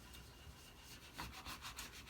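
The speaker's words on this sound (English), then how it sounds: "you're just going to burnish it on the front and the back of that vinyl sticker" A credit card is rubbed firmly over a vinyl sticker to burnish it, giving a faint, close, dry scraping that grows into a few rhythmic strokes in the second half.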